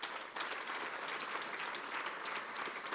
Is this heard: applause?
yes